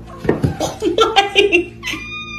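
A cat gives a few drawn-out meows and yowls close by, mixed with a person's laughter, in a funny moment around a cat in water.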